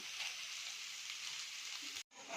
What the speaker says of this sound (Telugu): ఆనియన్స్ని నేను ఫ్రై చేస్తాను.